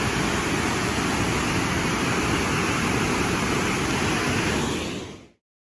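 Powerful roar of a big-drop waterfall in a Tennessee state park, heard up close as a dense, unbroken wash of water noise that fades out at the end.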